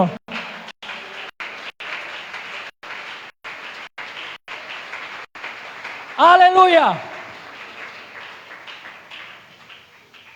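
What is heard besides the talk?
audience applause in church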